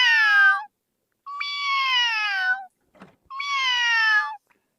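A boy mimics a cat with three drawn-out, falling meows, each clear and close, separated by short pauses.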